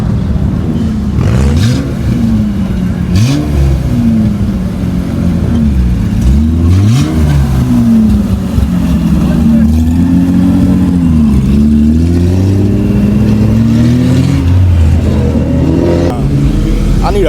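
Loud car engines rev and accelerate nearby at a car meet, their pitch swooping up and down, with people talking underneath.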